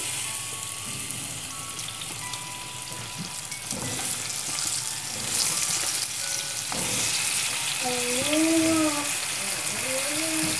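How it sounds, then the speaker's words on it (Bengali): Pieces of kakrol (spiny gourd), already seasoned with salt and turmeric, fry in hot oil in a home kitchen, a steady close sizzle with faint clinks and a few brief tonal sounds near the end, no talk. "সো এখন আমি এই কাঁকরোলগুলো তেলের মধ্যে দিয়ে দিচ্ছি।"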